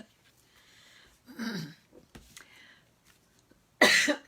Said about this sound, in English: Got myself tickled and started coughing.